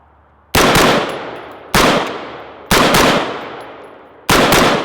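An 11.5-inch AR pistol fires four loud, sharp shots outdoors, unevenly spaced, each crack followed by a long, fading echo.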